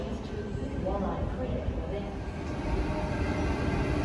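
Sydney suburban train at Hurstville station, a steady low rumble of cars rolling through the platform, continuous and fairly close, with a voice talking over it.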